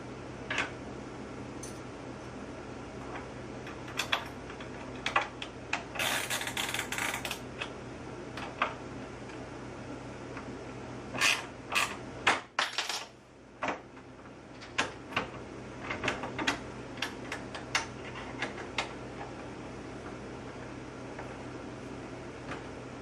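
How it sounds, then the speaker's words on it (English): A 1/2 inch ratchet wrench tightening bolts while assembling a Ryker Pilates reformer. Quiet, intermittent bursts of rapid ratchet clicks separated by pauses, close by and alone, with no talking. "If you'd like to get a ratchet, or you have a ratchet wrench, it's a 1/2 inch size"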